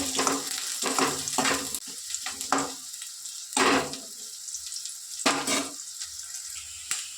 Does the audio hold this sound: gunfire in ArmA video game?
no